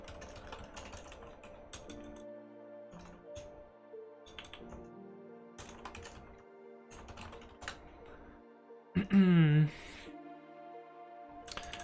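Typing on a Kinesis Freestyle Pro split keyboard, bursts of clicky keystrokes in quick irregular clusters separated by short pauses, close and clear, with a brief louder squeak near the end and a voice speaking at times.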